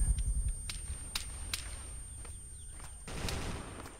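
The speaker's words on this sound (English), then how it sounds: "M60 starts suppressing in short bursts." Sharp M60 machine gun shots crack out in a few short, scattered bursts in a Vietnam War video game, somewhat distant, over a low background rumble.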